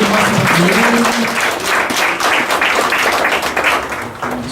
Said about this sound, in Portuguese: Uma salva de palmas, em nome de São Pedro, nosso padroeiro